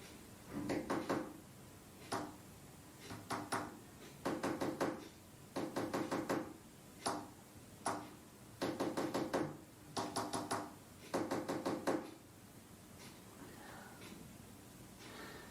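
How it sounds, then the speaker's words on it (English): Rhythmic knocking in the video game Her Story, tapping out Morse code in grouped bursts of quick raps separated by short pauses, fairly close and crisp against a quiet background. "That was fucking Morse code, mate."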